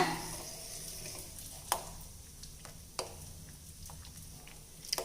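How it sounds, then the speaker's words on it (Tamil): Milk boils in a pan for sheer khurma while a spoon stirs it, giving a soft continuous bubbling hiss with a few sharp clinks of the spoon against the pan, close and fairly quiet. "பால் காஞ்சிட்டு இருக்கும்போது இந்த மாதிரி நல்லா கலந்து விட்டுக்குங்க"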